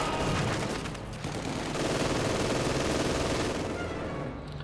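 MG42 machine gun fire in a World War II strategy video game forms a dense, continuous rattle of bursts mixed with other battle noise, loud and sustained throughout with no talk.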